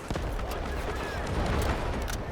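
Gunfire in the video game Delta Force, dense rapid bursts of shots layered into a continuous loud barrage with a deep rumble, a voice faintly mixed in.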